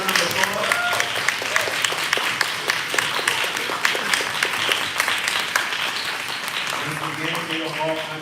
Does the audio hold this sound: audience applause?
yes